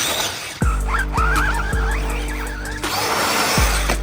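A Traxxas 6S Mini Maxx RC truck on paddle tires held at full throttle, its motor whining loud and steady, with a high-pitched howl rising and falling over a sharp rhythmic thumping.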